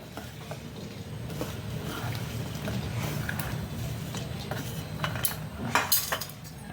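Metal scraping and light clatter as chillies are placed on a hot iron griddle with a faint sizzle, steady close kitchen sounds with a few sharper clinks near the end.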